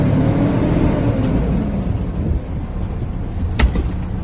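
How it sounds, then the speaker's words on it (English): Manual semi truck pulling away after the clutch is released, a loud, close diesel engine rumble that holds steady, then dips briefly before rising again with a short sharp clunk near the end, no talking. "We're gonna let off the clutch and we're gonna accelerate."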